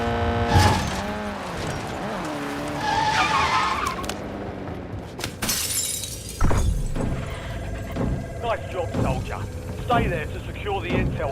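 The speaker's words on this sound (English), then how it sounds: "I'm breaking glass" Glass shattering in the video game Call of Duty Warzone, Verdansk, with a sharp crash of breaking panes and tinkling shards, followed by more impacts, scraping and mechanical in-game noises, with a voice heard at points.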